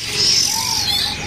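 A caged songbird at an Indonesian bird market gives a short, clear whistled call lasting about a second, close and fairly loud with no voices over it.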